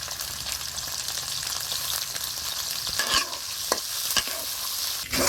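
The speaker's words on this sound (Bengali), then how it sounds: "এবার ইলিশ মাছের মাথাগুলো দিয়ে দেব।" Hilsa fish heads fry in oil with chopped onion, a close, continuous sizzle broken by several scraping stirs and knocks toward the end, with no voices.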